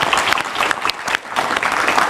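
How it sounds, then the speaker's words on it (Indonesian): Studio audience at an Indonesian political talk show claps in a loud, dense burst of applause, steady and close for a couple of seconds. "tepuk tangan dulu."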